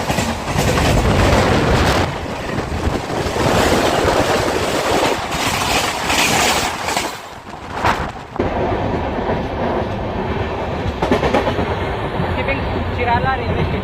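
The Coromandel Express runs between Chennai and Visakhapatnam, heard from inside as a loud rumbling roar with rhythmic clattering of wheels over rail joints, a sharp burst of heavy clanks midway, then steadier running.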